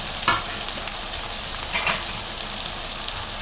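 Thick-cut onions frying in a pan, a steady broadband sizzle with a few brief stirring scrapes, close and fairly loud, no talking.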